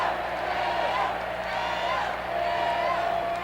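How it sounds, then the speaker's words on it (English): A crowd at Game 2 of the 1980 ALCS baseball game chants "AO" for Amos Otis, a steady roar that keeps going beneath a broadcaster's voice. "he has the crowd behind him right now chanting AO"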